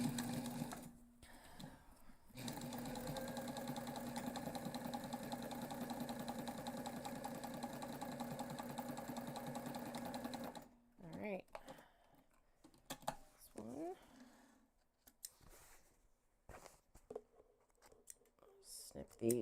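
A sewing machine stitches a backpack seam, running in a steady loud mechanical whir for about eight seconds after a short start, then stopping into fabric handling and soft intermittent noises.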